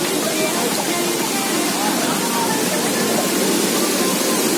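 A mountain river waterfall in Yaremche, Ivano-Frankivsk region, Ukraine, roars in a steady, unbroken wash of rushing water, loud and close, with no pauses for the full length.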